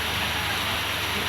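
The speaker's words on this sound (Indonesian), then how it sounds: "Nah suasana pasar ini hujan teman ya. Nah hujan sudah mulai turun," Rain falls at a traditional market, a steady, even hiss of rainfall on surfaces that fills the whole moment without breaks, moderately soft and close.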